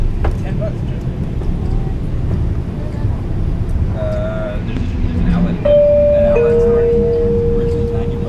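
Inside a Siemens S70 tram riding through Charlotte, a constant low rumble of wheels and motor fills the cabin, with chime-like tones and voices talking over the ride.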